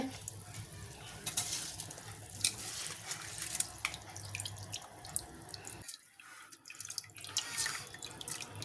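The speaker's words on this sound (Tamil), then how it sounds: "தண்ணி வடிகட்டிட்டு" Water being drained off through a strainer while cooking tomato rice, a steady close splashing pour that briefly thins out near the end before picking up again.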